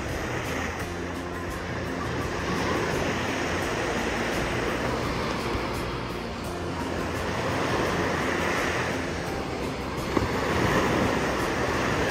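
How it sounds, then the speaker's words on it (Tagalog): Steady roar of ocean surf with wind buffeting the microphone, continuous and loud throughout, with no voices. "Tuwa sa alon si Utoy."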